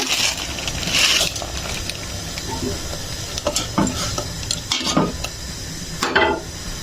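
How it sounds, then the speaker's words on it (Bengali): A packet of Maggi noodles goes into a pot on the stove, with steady bubbling and sizzling, a few scrapes and clinks of a utensil against the pot, and several sharper stirring bursts. "এবার দিয়ে দিব এই যে ম্যাগি নুডলস 1 প্যাকেট দিয়ে দিব।"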